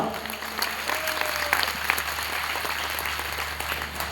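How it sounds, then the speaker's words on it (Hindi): Audience applause at a Jain religious discourse during a Panchkalyanak event at a temple in Talbehat: steady, dense clapping from a crowd holding level for about four seconds, with a faint sustained tone running underneath. "जोर से बजाओ तालियां।"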